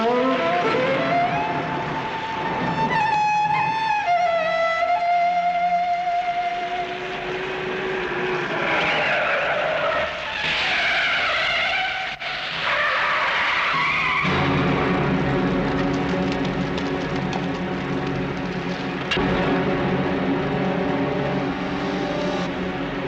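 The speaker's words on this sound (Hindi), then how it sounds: "ड्राइवर गाड़ी चलाओ" A car pulls away with tires skidding and squealing and the engine revving hard, loud and close, sweeping in pitch before settling into a steady roar; no one talks.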